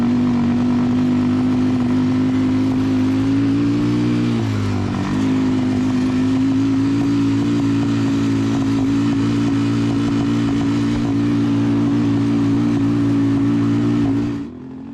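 A Yamaha Warrior 350 ATV with a cheap carburetor, still cold and running rough, revving under throttle with a loud, steady, buzzing drone, a brief pitch dip partway through, then cutting off abruptly at the end.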